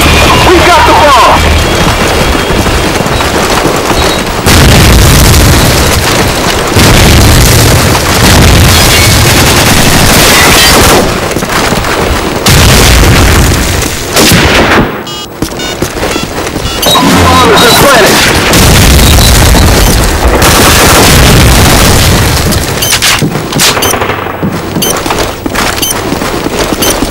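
Gunfire, explosions and booms from a search and destroy match in a video game. They run loud and dense through the whole stretch, with game voices and music mixed in and only brief dips.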